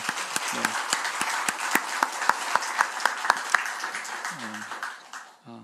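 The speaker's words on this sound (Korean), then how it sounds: "격려한다는 의미로 박수 한번" Congregation at a Korean church Sunday service applauds its small-group cell leaders, a dense burst of clapping that is fairly loud and steady for several seconds before tapering off, with scattered voices mixed in.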